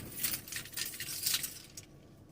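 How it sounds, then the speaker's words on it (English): Metal keys jangle and clink continuously for about two seconds, close and moderately loud, before fading out, with no talk. "grab one of my keys and open this box."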